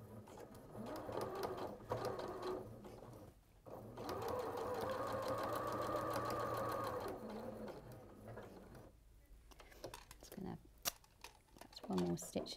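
A domestic sewing machine with a standard presser foot stitches a quarter-inch seam around fabric in a continuous, buzzing run of a few seconds, with quiet speech and shorter stitching bursts around it.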